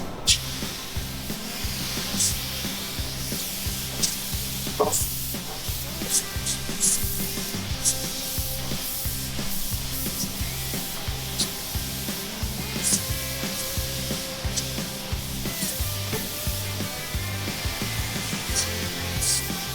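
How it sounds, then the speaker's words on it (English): An air blower hisses steadily and loudly at close range, drying waterborne silver paint on the cross member of an off-road bread van, with a few bumps and clatters over the continuous rush. "we'll grab the air blower and get all the moisture out of it"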